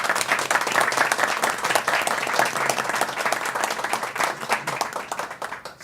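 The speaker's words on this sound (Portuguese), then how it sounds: "uma salva de palmas para o prefeito Bruno Covas" Applause for São Paulo mayor Bruno Covas at a city council radio event, a dense, steady round of clapping from a gathered audience that holds strong and then gradually thins toward the end.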